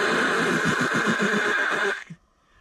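A human voice imitates a Jetboil camping stove, making a steady breathy roar that holds for about two seconds and then cuts off sharply, close and fairly loud.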